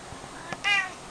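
A house cat lets out a single short meow close by, following a couple of faint soft sounds in a quiet room.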